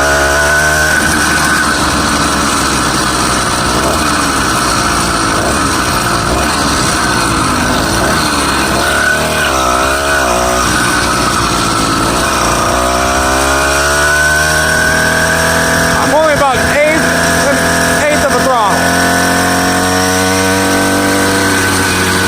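A 66/80cc ZEDA motorized bicycle engine drones loudly and steadily throughout the ride, its buzzing pitch rising and falling as the throttle changes. The rider does not speak.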